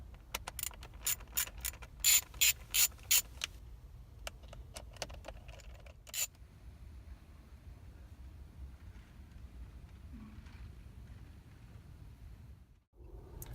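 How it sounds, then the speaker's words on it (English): T15 Torx screws being backed out of a 2007-2013 GM truck or SUV airbag steering wheel, heard as a run of sharp close ratchet clicks in bursts, then quieter handling of parts. "take these 4 T15 screws out"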